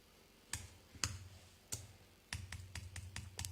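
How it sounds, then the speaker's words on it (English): Typing on a computer keyboard in a quiet room: a few separate keystrokes, then a quick burst of rapid clicky taps, close and crisp. "I'll type something I'll just type 3 letters okay"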